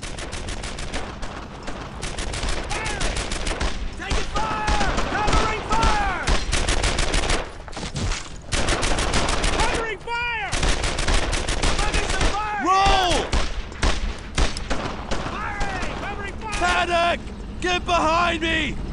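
Dense World War II gunfire from Brothers in Arms: Earned in Blood, with sustained machine-gun bursts and rifle shots rattling almost continuously, loud and close, over shouted voices and the rumble of a nearby Sherman tank.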